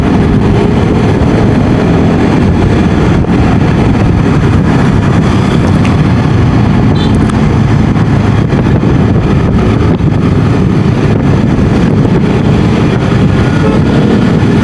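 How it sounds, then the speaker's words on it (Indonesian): A Yamaha XMAX scooter engine runs rough after a pulley upgrade, giving a loud, steady, coarse rumble with wind buffeting throughout and no voices. "Suara mesin memang lebih kasar jadinya, mungkin karena udah diganti pulinya itu ya."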